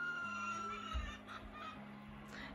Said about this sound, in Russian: Петухи кричат, слышите?